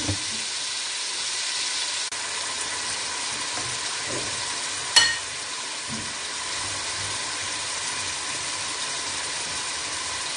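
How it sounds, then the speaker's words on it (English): Washed rice tipped into a pot of boiling water for Nigerian fried rice: a constant bubbling hiss with a brief splash-like thump midway, then the steady boil continues alone. "Let me just put the rice."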